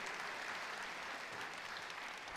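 Steady applause from a squash crowd at the Optasia Championship 2023 semi-final, a dense even clatter of many hands held at moderate distance with no talk over it.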